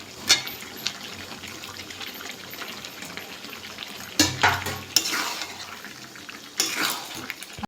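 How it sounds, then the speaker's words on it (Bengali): Potatoes and chicken are stir-fried in a pan under a low, continuous sizzle, broken by several sharp scraping bursts as a spatula turns the pieces; the scraping is loud and close. "আলুর সঙ্গে মাংসটা ভালো করে কষে নেব।"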